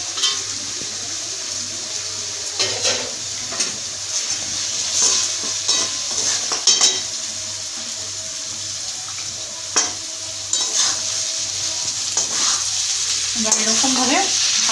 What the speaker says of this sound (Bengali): এবার এরকমভাবে ভালো করে মশলাটার সঙ্গে ফুলকপি মিক্স করে নিতে হবে।